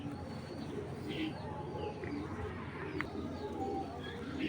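Tournament breeder pigeon cooing softly in a steady low murmur against a constant background hum, with faint chirps from other birds and no clear talk.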